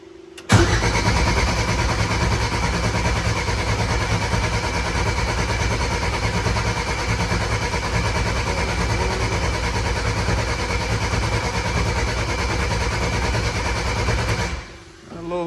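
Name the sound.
race car engine cranking and starting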